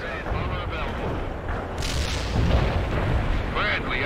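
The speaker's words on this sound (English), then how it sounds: "That artillery is closing in!" Artillery fire in the World in Conflict video game, heavy low booms rumbling under a radio-style voice and shouts, with the barrage swelling louder near the middle of the short burst.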